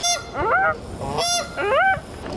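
Swans at a New York zoo give three loud, nasal honking calls in quick succession, each call a rising then falling bugle-like note, close by with no talking.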